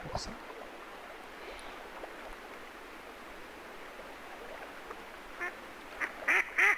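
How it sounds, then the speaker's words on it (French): A few short, bright video game duck quacks near the end, following a stretch of steady hissy background. "C'est bien un bon bruit de canard."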